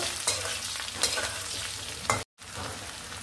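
Fried potato pieces with chopped green chilli are stirred in a hot pan, giving a steady loud sizzle with scraping stir strokes throughout and one brief cut near the end.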